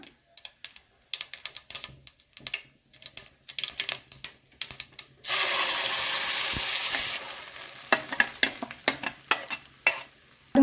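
Mustard seeds pop and splutter in hot oil as quick, sharp crackles, then a ground perandai paste goes in with a loud, sustained hiss and sizzle before the popping and scraping resume, close up and without talk.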